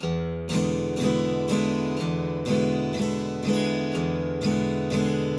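Acoustic guitar strummed through 12-bar blues chords at a brisk tempo, steady rhythmic down-strokes ringing out clearly and close with no talking.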